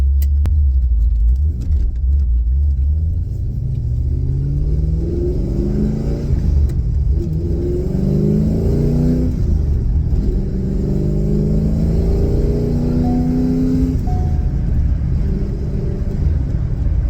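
A 1990s Chevrolet V8 sports car with nearly 500 horsepower drives off and revs through rising and falling engine sweeps. The deep, loud rumble is close by and continuous, with no talking.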